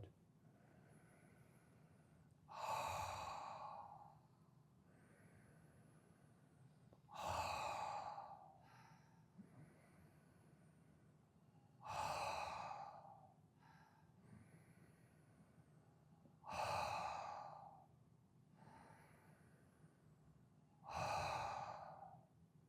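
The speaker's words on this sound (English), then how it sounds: "inhale through the nose, exhale through the mouth, but pay attention to what you're feeling in the back of the throat" Slow meditative breathing, in through the nose and out through the mouth, comes as five evenly spaced, airy breath cycles, soft and close, with quiet gaps between them.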